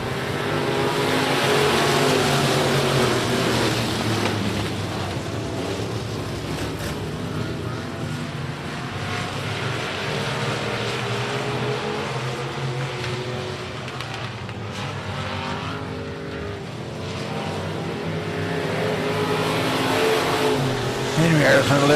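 Winged modified race cars at Big O Speedway accelerate off the start together, a loud sustained roar of engines revving up and holding steady, with a track announcer talking over it throughout.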